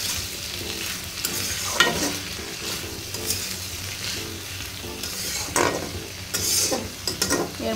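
Prawns simmering with kochur loti (taro stolons) in oil-rich spiced masala, a steady close frying sizzle with stirring scrapes and occasional clinks throughout, no voices.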